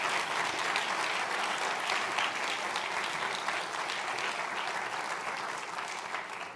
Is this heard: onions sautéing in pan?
no